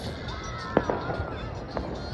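New Year fireworks pop at a distance from a cold rooftop, with a few sharp cracks spaced out over a murmuring background with faint voices.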